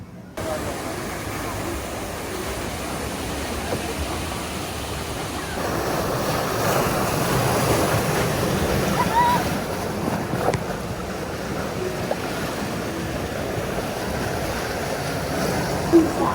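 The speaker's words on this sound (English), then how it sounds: "probably one of the most thrilling rapids rides I've done, although my shoes are now soaked" Steady broadband rush of water and wind on a rapids raft ride at Happy Valley Chongqing theme park, a continuous wash that swells louder midway, with no clear talk over it.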